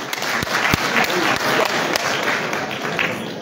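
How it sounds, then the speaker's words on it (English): Audience at a youth empowerment event applauding as names are called, a loud dense run of clapping with a few sharp thumps standing out, sustained evenly from start to end. "Please clap for"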